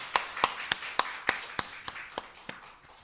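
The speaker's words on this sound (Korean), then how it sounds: "하나님께 영광의 박수 드리겠습니다." A church congregation claps in a slow, steady rhythm, about a dozen distinct, fairly loud claps spaced evenly and fading slightly at the end.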